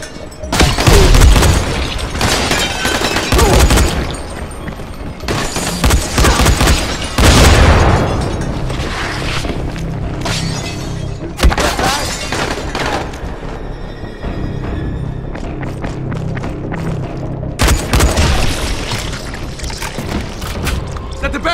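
Thrown explosive going off in Dying Light: several loud booming blasts at intervals, each with a sharp onset and rumbling decay, mixed with gunfire-like bursts and a voice shouting between them.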